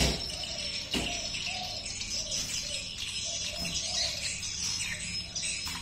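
Swiftlet lure recording: repeated chirping calls of parent swiftlets mixed with chasing swiftlet twitters, a looping series of short bird tweets over a steady electronic hiss, moderately faint.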